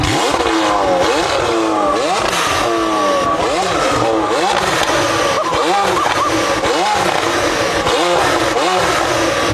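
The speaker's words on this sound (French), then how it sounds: "Écoutez-moi ça les gars avec les dumb valves," McLaren 720S with an Armytrix exhaust and the dump valves open, revving loudly and repeatedly up close, each rise and fall in pitch sweeping through the raspy engine roar while someone talks excitedly over it.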